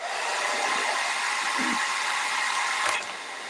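A hair dryer blows steadily and fairly loud, drying fresh paint on a wooden hen-shaped door hanger, its airy broadband whoosh continuing with only slight changes in pitch before easing off near the end.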